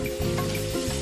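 Noodles for an extreme spicy-noodle challenge sizzling and crackling steadily in a hot pan, a close, continuous frying hiss with a low hum underneath and no talking.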